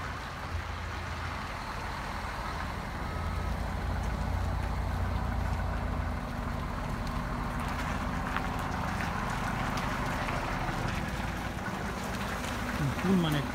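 A 14-metre coach bus manoeuvring into a parking spot at the Antiche Terre resort, its diesel engine idling in a low steady rumble with rising revs, a hiss of air brakes near the end, and people talking over it.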